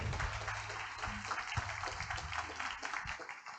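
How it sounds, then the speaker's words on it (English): A crowd claps steadily in a dense, continuous patter of applause, moderately quiet and fairly distant, with no voices standing out. "let's give Emma, Tim, Carol, and Jen a round of applause"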